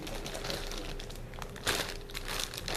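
Gallon-size plastic Ziploc bags stuffed with leftover orange peel crinkle and rustle close by in steady handling, with a sharper crackling burst partway through; no one speaks.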